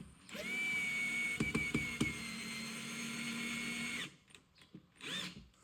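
A cordless drill drives a screw into a folding rifle stock, whining steadily at high speed for several seconds, then giving a few short, stuttering bursts as it slows and stops.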